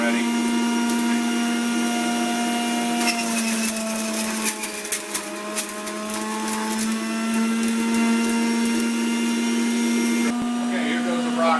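An electric juicer whirs steadily with a strong motor hum throughout as vegetables are slowly pressed down with the plunger, the drone holding loud and near with brief crunchy bursts of pulping mixed in.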